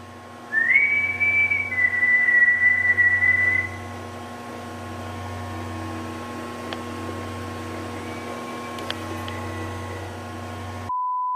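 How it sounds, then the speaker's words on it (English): A single human whistle inside a lighthouse: a clear, steady tone that rises briefly and holds for about three seconds, then the space falls to a quiet hum with a couple of faint clicks. "I've just heard a whistle."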